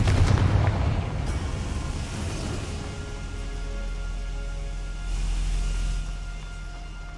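Confringo explosive spell going off in Hogwarts Legacy, a deep booming blast with a rumbling tail that swells again midway, low and heavy, with no voices over it.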